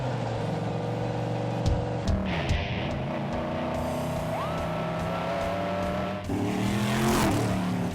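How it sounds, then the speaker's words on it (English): Race car engines at Riverhead Raceway roar and drone together, loud and close, with rising revs, a squeal of tires and a continuous mechanical rumble. "Gentlemen, start your engines."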